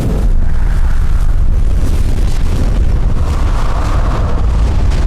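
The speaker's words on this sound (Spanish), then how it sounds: "Titán Alpha Heptan se estremeció con un estruendo parecido al que se produjo en" Deep, loud rumbling crash from a dramatized audio story, a sustained heavy roar with a low-end boom that fills the whole moment without any talking.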